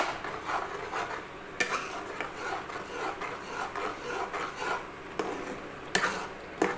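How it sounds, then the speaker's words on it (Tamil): Bread being stirred into thickened, reduced milk in a pan, a rhythmic close scraping and rubbing of a spoon against the pan, with a few sharper knocks. "இப்போ இந்த ப்ரெட்டை போட்டுக்கலாம் போட்டு நல்லா கிளறி விட்டுக்குங்க"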